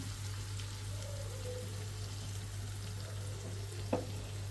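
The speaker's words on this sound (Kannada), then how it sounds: "ಇದು ಕೂಡ ಸ್ವಲ್ಪ ಒಂದು ಒಂದು ನಿಮಿಷ ಅಷ್ಟು ಎಣ್ಣೆಲಿ ಸ್ವಲ್ಪ ಫ್ರೈ ಆಗಲಿ" Masala frying in oil in a pan, a soft steady sizzle held under a low constant hum, with one brief clatter near the end and no voices.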